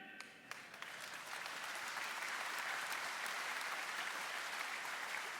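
Sustained audience applause fills a comedy appearance by Ted Nugent, a dense steady clatter of many hands that swells after the first second and holds loud and even to the end.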